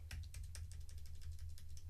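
Quick, light keystrokes tap on a computer keyboard in an irregular run of close clicks over a low steady hum.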